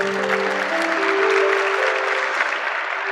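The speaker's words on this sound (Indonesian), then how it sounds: "Kasih tepuk tangan untuk Tuhan Yesus." A church congregation breaks into steady, dense applause that fills the room evenly for a few seconds, with a sustained tone held beneath it and no talking.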